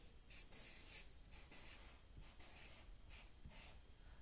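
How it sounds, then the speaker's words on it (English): Handwriting on paper: a steady scratching of a pen or pencil tracing out words in short, repeated strokes, close and fairly quiet, with no voices. "All right, so what could we write, Mabel and Penny"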